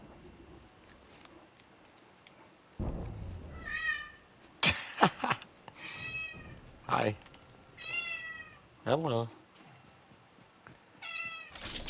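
A pet cat meows several times, her clear, fairly close cries spaced a second or two apart with brief pauses between them. A person speaks briefly among the meows.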